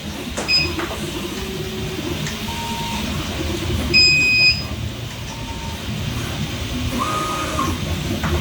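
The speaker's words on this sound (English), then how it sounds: "I just had a printer finish." 3D printer beeping as it finishes a print, a few short high electronic tones spread across several seconds, clear but not loud, over a steady room hum.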